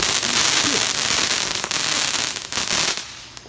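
A fireworks cake fires a rapid volley of crackling shots at night, with sharp bursts tumbling over one another and loud throughout before trailing off at the end.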